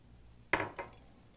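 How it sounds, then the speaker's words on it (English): A spoon stirs cold water into dissolved orange gelatin in a bowl, giving a sharp clink followed by a second softer knock, close and otherwise quiet. "Then we stir in some cold water."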